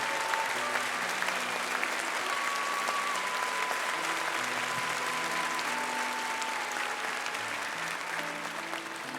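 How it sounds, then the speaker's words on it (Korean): Congregation applause at a Korean church thanksgiving service honoring a retiring senior pastor, steady sustained clapping from a large crowd filling the hall, with faint organ or keyboard tones sustained underneath. "다시 한번 큰 박수를 보내주시기 바랍니다"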